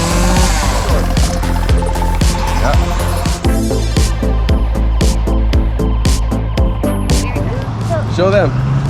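A chainsaw cuts into wood during a child's first carving session, the engine droning loudly and close with revving surges and dips throughout, while a voice is faintly heard over it.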